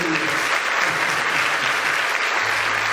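A church congregation applauds during a sermon, with steady, dense clapping that holds at an even level for the whole stretch and a low hum creeping in near the end.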